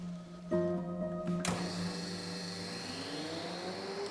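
An X-ray radiography machine powers up with a click followed by a steady electrical hum, then a louder broadband whir cuts in and keeps droning with tonal overtones, close and continuous, with no talking.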